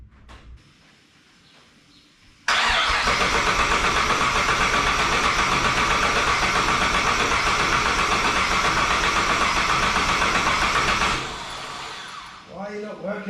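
A 1959 Chevrolet Apache pickup with a twin-turbo engine, fresh fuel, working injectors and new spark plugs, cranks loudly and steadily for about eight seconds without catching, then cuts off.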